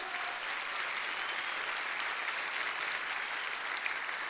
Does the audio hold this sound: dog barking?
no